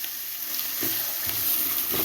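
Onion and meat sautéing in a pan, a faint, steady sizzle with a few soft stirring knocks, heard close and alone.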